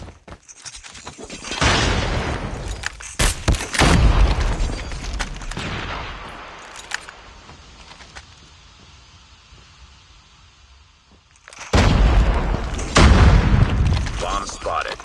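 Call of Duty Mobile match with a frag grenade blast and bursts of gunfire, sharp loud booms and crackling shots in clusters, a quieter lull in the middle, with game voice callouts.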